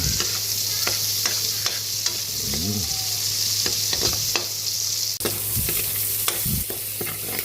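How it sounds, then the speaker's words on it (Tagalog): Onion stirred and sautéed in a pan for pork batchoy, a steady oily sizzle broken by repeated close scraping and clacking strokes of a utensil against the pan, with no talking. "Sundan natin yung ating onion, sibuyas. Umikos-mikos lang."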